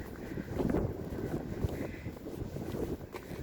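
Wind blows steadily outdoors on a clear evening among trees, making a continuous low rumble and buffeting against the microphone with no talking.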